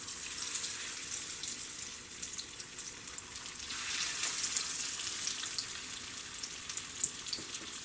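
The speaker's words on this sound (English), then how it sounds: "We're going to take our breaded pork chops and stick them in the heated skillet." Breaded pork chops fry in a heated skillet, giving a steady close hiss and crackle without pause.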